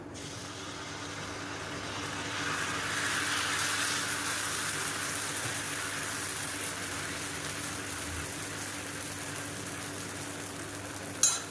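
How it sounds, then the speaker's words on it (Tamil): Dosa batter made from traditional rice cooking on a hot stone griddle, a soft steady sizzle that rises briefly then holds, ending with a sharp tap, no voices. "இப்போ கல் காய வச்சுட்டு தோசையாக ஊற்றி எடுத்துக்கலாம்"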